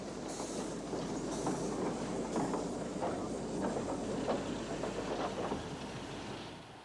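Rake of broad-gauge suburban coaches with sliding doors rolling into a Porto platform, a steady rumble of wheels with soft clacking joints, moderately distant under a faint background hum.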